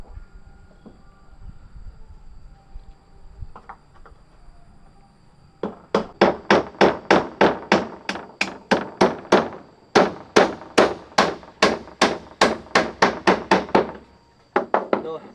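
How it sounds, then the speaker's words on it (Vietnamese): Rapid, loud hammer blows drive nails into wood, striking in a steady rhythm of around twenty hits in two bursts with a short pause between, following a stretch of quiet background murmur. "từ từ để anh đóng đinh đây em ạ"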